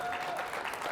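Faint applause rises from a conference audience at a real estate industry interview event in New York, a brief soft patter of clapping heard from across the room.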